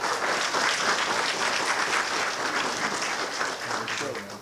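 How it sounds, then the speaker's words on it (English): An audience at a Fluvanna County, Virginia State of the County event breaks into steady, full applause, a dense wash of clapping that holds throughout and fades slightly at the end. "Please give me a round of applause for Eric Dahl."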